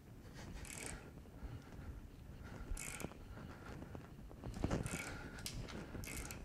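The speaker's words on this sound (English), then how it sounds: "to show you the biting force, I will break this bolt off on purpose." A grip edge socket extractor bites into a bolt clamped in a vise as it is forced round to snap it off, giving quiet, intermittent ratcheting clicks and metallic creaks over a low background.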